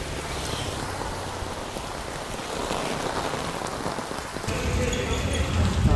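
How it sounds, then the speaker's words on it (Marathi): Heavy rain pours down steadily on a street near a hostel during a trip from Mumbai to Kerala, a dense, loud hiss that swells even heavier toward the end. "अति पाऊस पडायला लागला."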